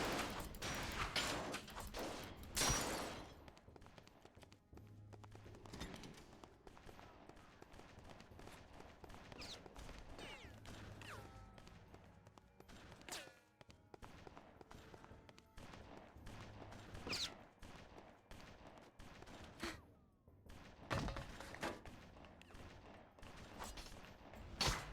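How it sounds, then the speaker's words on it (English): Repeated gunfire bursts in the video game BloodRayne: Terminal Cut, sharp cracks scattered across the stretch amid constant game noise, with several heavier volleys near the start and later. "there's a lot of gunfire going on"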